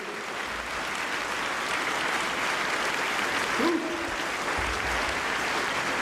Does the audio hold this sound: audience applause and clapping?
yes